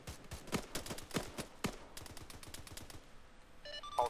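Bursts of automatic gunfire from a military video game, a fast run of sharp shots followed by more spaced cracks, fairly close, with no talk over them.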